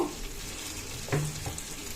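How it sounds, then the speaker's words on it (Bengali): Fish spice paste fries in oil in a pan, a dense, steady close-up sizzle with a brief scrape of stirring partway through and no talking. "নিয়ে ভালো করে মশলাটা কষিয়ে নিচ্ছি"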